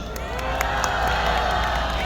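A political rally crowd in South Korea cheers and claps for a speaker being honored, a loud, continuous wash of voices and applause with scattered whoops throughout.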